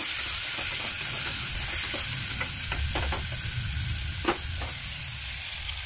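Eggplant pieces fry in oil with a dense, steady sizzle and hiss throughout, broken by light scattered taps and scrapes of stirring, close and even in level with no voices.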